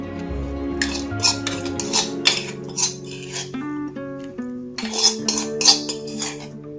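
Cooled lemon rice being mixed in a metal vessel with a spoon, giving repeated close scraping and clinking strokes of utensil on pot in an uneven rhythm, loud and clear with no speech.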